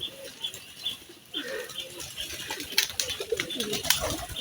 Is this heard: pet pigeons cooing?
yes